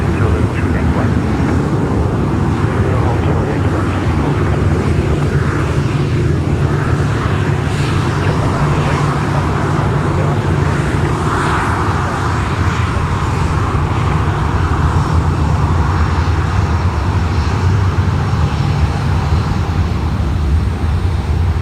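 An Airbus A350 airliner at Brisbane Airport, heard as a continuous loud, broad jet roar and rumble that holds steady throughout, with voices talking over it.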